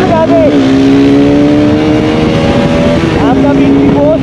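A Bajaj RS200 and a Yamaha R15 V3 race on a road with a loud, close, continuous engine drone. The engine pitch rises and falls through gear shifts, and voices talk over the noise.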